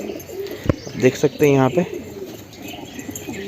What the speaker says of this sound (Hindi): ये कबूतर आया छत के ऊपर जिसको माता हुआ है